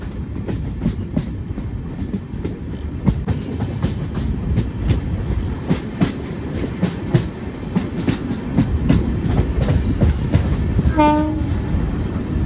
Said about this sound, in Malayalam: വരുന്നത് വേണാട് എക്സ്പ്രസ് ആണ് കേട്ടോ, അതാ വരുന്നത്.